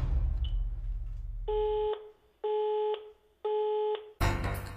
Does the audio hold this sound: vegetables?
no